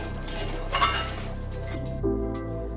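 Katla fish kalia being stirred in a pan, with a spoon clinking and scraping against the metal over a faint sizzle, including a louder knock near the end; no talking.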